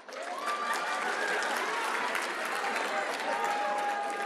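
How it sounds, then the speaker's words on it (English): Applause from a youth convention audience, a dense crowd clapping continuously at steady volume with a faint sustained tone behind it. "Sorry, that round of applause felt really weird."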